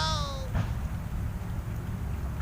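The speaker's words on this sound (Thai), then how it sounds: "ฝนลงมาแล้วนะครับตอนนี้ครับ" Rain falling outdoors during a fishing trip, a steady broadband patter close by, with a brief whistle-like tone at the very start.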